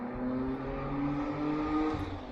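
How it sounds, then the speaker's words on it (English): A loud car passes by in the background, a steady engine roar that holds for a couple of seconds with no speech over it. "It's the first loud car of the stream."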